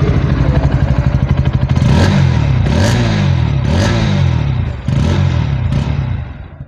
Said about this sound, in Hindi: सबसे पहले मैं आपको इस बाइक के एग्जॉस्ट के साउंड को चेकआउट करा देता हूँ